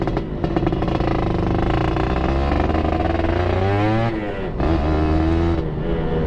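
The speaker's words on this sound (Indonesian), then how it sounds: "Kalau kedengeran di mic ini, suara knalpot merdu banget sumpah." A Suzuki Satria 120R motorcycle fitted with an aftermarket exhaust revs loudly close by, its engine note climbing and falling through repeated throttle blips with a brief dip before rising again.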